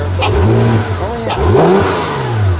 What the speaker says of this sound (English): When I rev it up, you can hear the air suck into the induction system.